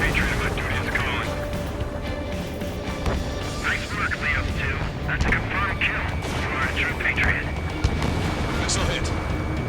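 A missile hits in the Ace Combat 7 aerial combat game, giving a deep rumbling blast inside continuous engine and battle noise, with radio voices talking over it.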